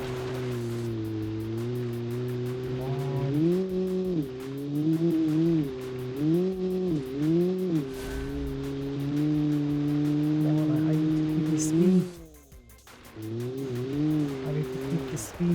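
A 1977 communist car with a 48-horsepower engine drones steadily while driving slowly in first gear, its strained hum rising and dipping with throttle changes, then briefly dropping away before picking back up.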